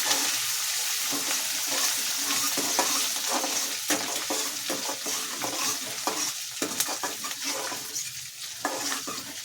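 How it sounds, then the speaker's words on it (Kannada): Steady sizzling of tempering spices and almonds frying in hot oil, with a spoon stirring and scraping the pan throughout. "ಒಗ್ಗರಣೆ ಎಲ್ಲ ಚೆನ್ನಾಗಿ ಫ್ರೈ ಆಗಬೇಕು"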